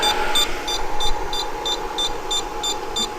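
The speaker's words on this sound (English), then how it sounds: "the inverter starts beeping" A 3000-watt pure sine wave inverter gives an overload warning: steady, evenly spaced high-pitched electronic beeps, about three per second, over a constant low hum and buzz.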